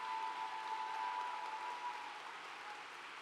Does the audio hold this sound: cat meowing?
no